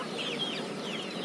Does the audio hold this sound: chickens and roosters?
yes